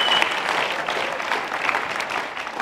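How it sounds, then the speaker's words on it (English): A church congregation claps together during a sermon, a dense, steady wash of applause filling the room for a couple of seconds with no voices on top. "give him a clap offering"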